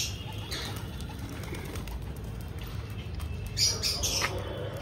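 Pigeons being fed by hand, with soft cooing and sharp squawks over a low background hum, a cluster of louder calls and wing sounds coming near the end.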